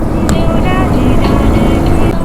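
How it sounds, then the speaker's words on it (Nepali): A motorcycle engine runs steadily and loudly up close during a ride toward Rongli, a continuous rumbling drone with someone talking over it. "finally motorcycle is working well"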